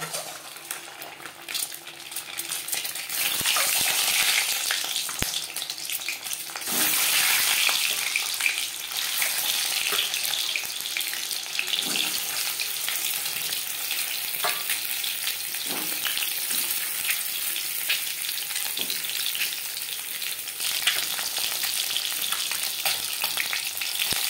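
Eggs frying in hot refined oil for an egg curry give a steady, dense sizzle that swells in the first seconds, then crackles evenly throughout, with occasional pops and faint utensil clinks.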